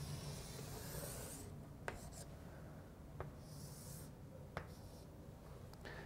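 A pen scratching across paper as it draws a line between plotted points on a four-quadrant graph, soft continuous rubbing strokes with a few small taps, close up and quiet.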